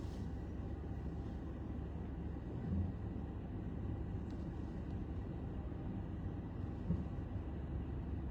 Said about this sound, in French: les voitures viennent de partout